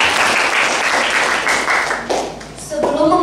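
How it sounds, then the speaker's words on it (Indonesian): A school audience at a junior high student council debate claps for five candidates, dense brisk applause that carries on loudly, with a few voices starting over it near the end. "Boleh beri tepuk tangan dulu untuk kelima kandidat ketua OSIS kita."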